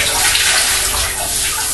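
Cold water gushes steadily from a tap into a bath, a constant close splashing rush that fills the moment alone, with no voices.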